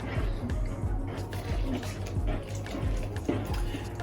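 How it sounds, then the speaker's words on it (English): Half a litre of milk is poured into chocolate magic cake batter, giving a steady liquid splashing and gurgling with small drips, close by and continuous. "now we're adding half a litre of milk."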